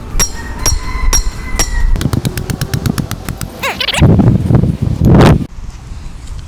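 Sharp metallic hammer strikes drive steel rebar stakes diagonally into the ground, first spaced, then in a quick rapid run, with rustling and scraping between blows.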